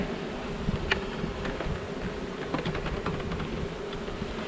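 Honeybees swarm around a swarm trap box outdoors. Their steady, dense buzzing hum runs throughout, with occasional louder passes of single bees close by.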